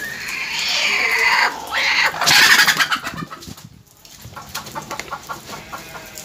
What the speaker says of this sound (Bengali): মুরগিগুলা ভারী খাচ্ছিল, ঘরে ঢুকে গেছিল।